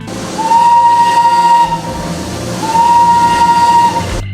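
A Darjeeling train rolls along with a steady rumble, and two long, loud whistle blasts of even length are separated by a short gap.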